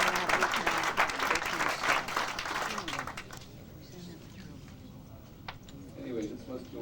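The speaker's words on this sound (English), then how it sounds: "I think we cut George short of his applause." Conference audience applauding at a 1997 dental medicine meeting, dense clapping for about three seconds that then thins out into scattered claps and room noise.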